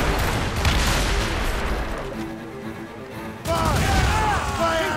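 Ship cannon fire in the video game Assassin's Creed Rogue Remastered, loud booming blasts and crashes in a naval battle, layered with shouting voices and game effects.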